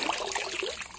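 Water trickling and splashing at Mamandur forest waterfall near Tirupati, a steady close-up babble of flowing water with no voices.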